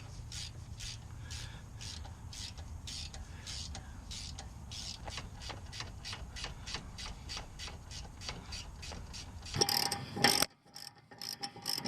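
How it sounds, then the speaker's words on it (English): Ratchet tightening the bolts on the rear brake caliper of a Volkswagen Jetta MK6, a steady run of close, rhythmic clicks, then a few heavier clanks and a brief louder scrape near the end. "Let's get these bolts done up."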